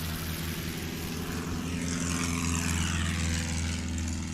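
Small STOL airplane on its takeoff roll at an Oregon Trail STOL competition practice: a steady, loud propeller and engine drone holding constant throughout, with no talk.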